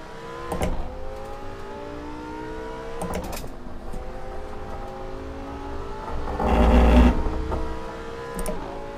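A Lamborghini engine drones through a lap in Assetto Corsa, its pitch climbing and dropping through gear shifts, with a louder roaring surge near the end and sharp shift bursts punctuating the run.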